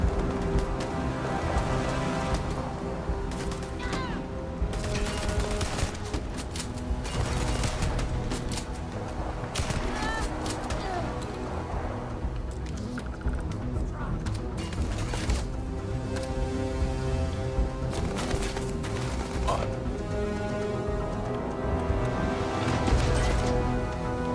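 Gun turrets fire in the video game Starfield, a dense, steady rattle of rapid shots and impacts that goes on for a long stretch with bursts of louder crashes, and no one speaking.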